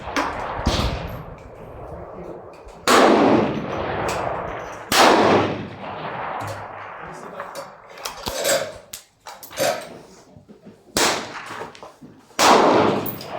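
Sharp shots from a CZ 527 rifle crack outdoors at a range at irregular intervals, some followed by faint metallic pings from distant steel targets.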